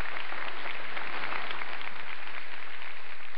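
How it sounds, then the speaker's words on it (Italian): Applause for the crew of technicians and camera operators at the Talentino Show 2012, a dense steady wash of many hands clapping that holds evenly from start to finish. "facciamo un applauso a loro"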